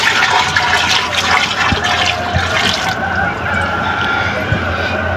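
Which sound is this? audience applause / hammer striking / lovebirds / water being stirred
water being stirred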